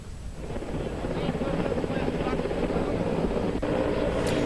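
An Indian Air Force helicopter roars steadily during a flood rescue over the Tawi river in Jammu, a loud, continuous rotor and engine wash that builds in the first half-second.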